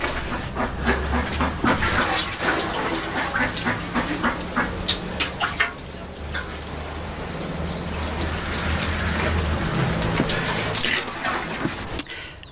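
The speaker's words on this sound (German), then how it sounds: "Und deshalb haue ich mir hier jetzt noch ein paar Kannen Wasser rein und dann ist gut hier." Water poured from watering cans onto garden soil, a steady, close splashing and gushing that runs continuously for about twelve seconds with no talking.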